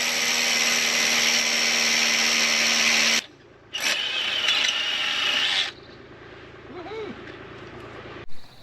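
A power drill bores holes into ICF blocks, whining loudly for about three seconds, then again for two more after a short pause, followed by quieter background activity.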